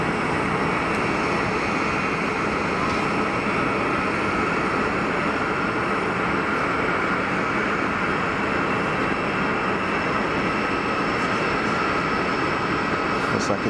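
Steady, loud roar of a Challenger business jet at Geneva Airport, a broad continuous engine rumble that fills the whole stretch without a break, with no one speaking over it.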